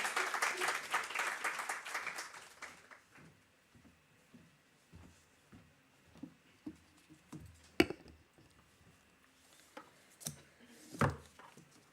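Audience at a panel event on women in STEM giving a short burst of applause that quickly fades, followed by scattered faint knocks and shuffling in a quiet hall.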